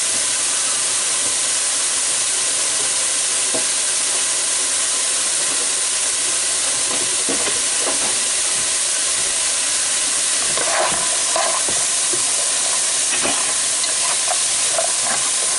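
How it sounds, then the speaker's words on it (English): Carrots sautéed in a pot give off a steady hissing sizzle throughout, with scattered spoon stirs and clinks growing busier toward the end, and no one speaking. "So what I'm going to do is saute these."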